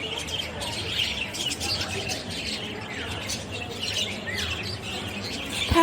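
A pet cockatoo parrot chirps and squawks in quick, irregular bursts close by, against a busy, noisy indoor background.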